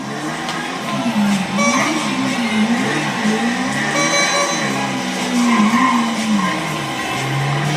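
High-powered motorbike in GTA V, its engine note rising and falling in repeated revving sweeps that run continuously throughout, with no talking over it.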